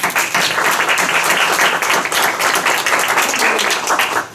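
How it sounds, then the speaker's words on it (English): A short, dense burst of audience applause in a hall, many hands clapping together at a steady, loud level before easing off at the end. "Please, let's clap for them"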